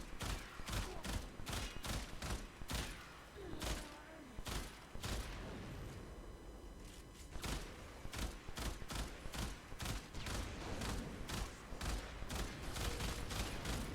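A Burston Prime rifle fires bursts in a video game. Rapid clusters of sharp gunshots repeat through the whole stretch over a constant dense game soundscape, with short pauses between bursts.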